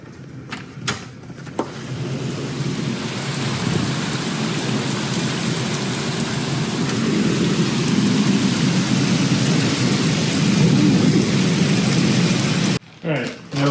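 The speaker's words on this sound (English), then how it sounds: "Man, it is storming right now." Heavy rain pours steadily during a thunderstorm, with a broad loud hiss and low rumbling thunder building throughout, a few knocks at the start and a brief drop-off near the end.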